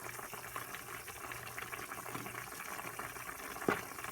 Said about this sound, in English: So it is at a rapid boil